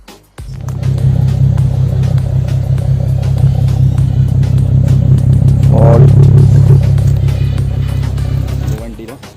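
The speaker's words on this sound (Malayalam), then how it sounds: "6 സിലിണ്ടർ എൻജിനാണ് ഇതിൻ്റെ." A Ford Mustang's six-cylinder engine rumbles loudly close by, swelling into a rev near the middle before cutting off abruptly near the end.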